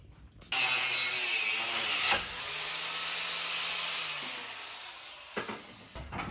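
Saw cutting through a rear brake part during a disc brake conversion on a turbo K-swap Honda CR-V, one loud continuous stroke lasting about four seconds, close and alone, with a brief clank after it.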